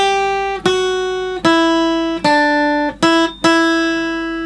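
A beginner guitar melody is played on the first strings, about six clean plucked notes at a slow even pace, each ringing and fading before the next, close and clear with no talking.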